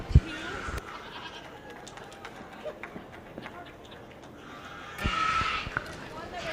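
Goats bleating at a 4-H/FFA meat goat show at a county fair arena, a few faint bleats and hoof scuffles under crowd noise, with an announcer speaking over them.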